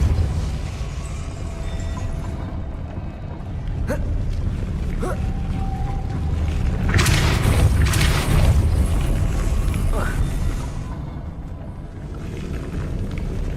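Depulso repelling spell cast in Hogwarts Legacy, the video game, bursting out as a loud whooshing impact with rumbling effects over a steady game-sound bed, with smaller magical hits and blasts scattered around it.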